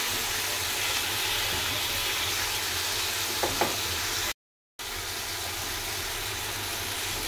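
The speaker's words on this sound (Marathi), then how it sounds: "आता हा बटाटा मीठ आणि तेलामध्ये चांगला फ्राय करायचा" Potato pieces frying in salted oil in a pan, a steady, even sizzle throughout with a couple of faint clicks and a brief dropout partway.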